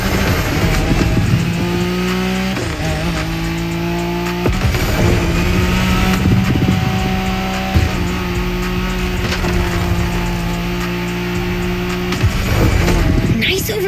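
A car drifting in the racing game The Crew Motorfest, its engine droning loudly and shifting pitch through long slides with tire noise, a steady roaring bed throughout while a voice talks over it.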